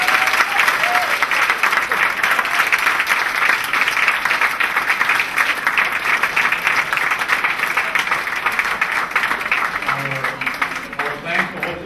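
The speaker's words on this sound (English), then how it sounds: "Let's give them a big round of applause." Sustained audience applause closes a televised US Senate candidate debate on Maui, Hawaii, a dense, even wash of clapping that holds steady for the whole span before tapering slightly near the end.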